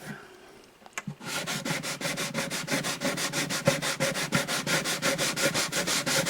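Sandpaper rubs lightly across the wood of an acoustic guitar bridge in quick, regular back-and-forth strokes, a close, steady scratchy rasp after a brief knock.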